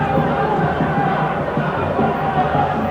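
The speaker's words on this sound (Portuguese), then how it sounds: "E ao fundo você ouvia a torcida falando" Football supporters at a Paulista Série A1 match between Guarani and São Bernardo, a distant, steady crowd murmur with chant-like swells sitting under close, continuous talking.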